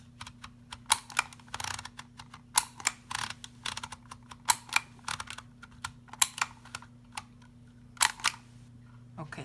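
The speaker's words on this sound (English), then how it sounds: "My label maker is not working very well, so if it makes like a weird noise, I'm sorry." A small label maker prints a label in uneven bursts of whirring and clicking, close and fairly quiet, over a low steady hum. The machine is not working well.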